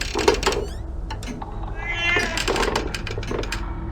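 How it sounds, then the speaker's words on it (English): Cat meowing in the hidden-object game Mystery Case Files: Ravenhearst, a few clear meows over a low ambient game background with some faint mechanical creaks, no talking. "I can hear the cat, I just can't see the cat."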